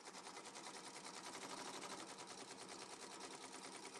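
Embroidery sewing machine stitching letters onto a t-shirt, a fast continuous mechanical rattle of rapid needle strokes, loud and steady throughout with no talk.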